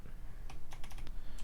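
Typing on a computer keyboard while writing Java code, a handful of quick, light key clicks in a short irregular burst over a steady low background hum.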